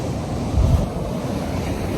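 Sea waves at Mypadu beach roll and rumble in a continuous, loud wash, with wind buffeting the microphone throughout and no voices.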